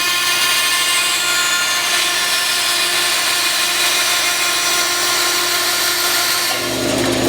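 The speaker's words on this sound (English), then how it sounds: "Now I'll grind to those shoulders" Loud, continuous high-pitched grinding of a steel hammer head on an abrasive wheel, steady and close, cutting off abruptly near the end.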